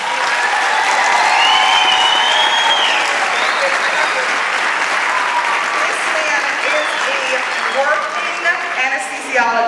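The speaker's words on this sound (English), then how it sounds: "I need a huge round of applause." Sustained, dense applause from an audience at a medical society gathering fills the space, loud and continuous, with voices and cheers mixed in beneath the clapping.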